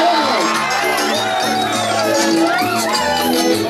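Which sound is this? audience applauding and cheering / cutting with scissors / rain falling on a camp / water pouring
audience applauding and cheering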